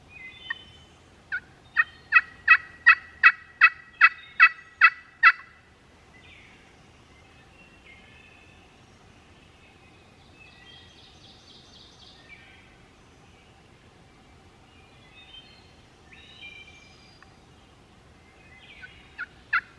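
A wild turkey gobbles in a rapid burst of about ten sharp notes early on, then smaller bird calls drift in over a steady outdoor hum, with a few more gobble-like pulses at the end, on public land in Indiana.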